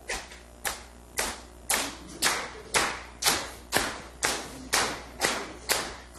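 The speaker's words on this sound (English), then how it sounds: "So this side of the room, I want you to clap after me" An audience in a room claps a rhythm back to a leader: loud, sharp claps in a steady, even beat, about two per second, twelve in all, with no voices over them.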